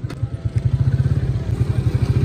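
A motorcycle engine close by, a loud, rapid throbbing pulse that holds a steady rhythm with a faint clatter on top and no speech.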